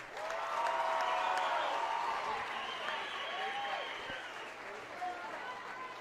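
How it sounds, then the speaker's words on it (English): Crowd applauding and cheering at a cage fighting event, CCW 4, a dense steady wash of clapping and voices filling the arena, sustained and fairly loud throughout with yelled voices rising over it. "put your hands together"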